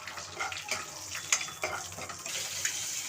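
Cinnamon and cloves fry in oil in a kadai, a close continuous sizzling hiss with scattered small pops and crackles, no voices.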